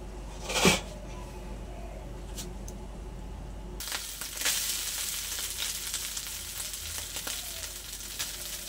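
Cooked rice tipped into a hot pan of heated spices (bay leaf, cinnamon, cardamom, cloves) for fried rice, a brief clatter and then a steady close sizzle and frying hiss with light stirring.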